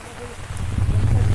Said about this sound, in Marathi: खूप पाऊस पडतोय बघू शकता.